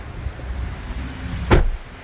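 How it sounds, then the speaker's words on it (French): A Mazda MX-30 car door swinging shut outdoors in cold weather, one firm thump near the end against a steady low rumble of wind and ambient noise. "Alors je vais fermer cette porte."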